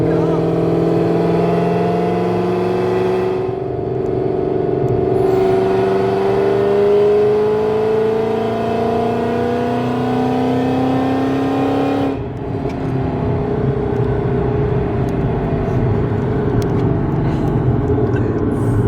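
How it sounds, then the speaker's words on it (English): Inside a Powerlab Performance-built car making about 800 wheel horsepower, the engine drones loudly and climbs in pitch as it accelerates hard in fifth gear, with a brief dip when the gears change. "I'm in fifth gear and it still wants to just go."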